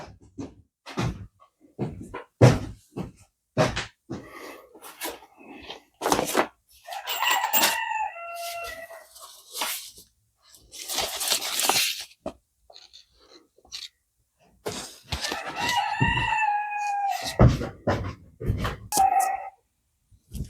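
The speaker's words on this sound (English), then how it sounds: "there's my rooster" A rooster crows twice in long drawn-out calls, interleaved with sharp scraping and rubbing noises of sandpaper on metal close by.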